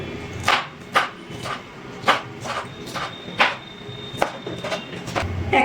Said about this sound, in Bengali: এবার আমি একটু পাতলা পাতলা করে কেটে নিচ্ছি।